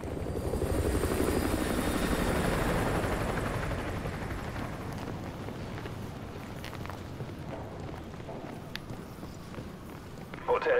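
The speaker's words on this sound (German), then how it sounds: "Feindlicher Heli, verstecken." An enemy helicopter in Call of Duty Modern Warfare 2 drones with a continuous rotor whir, strongest early and fading slightly, mixed with footstep-like movement and occasional faint clicks.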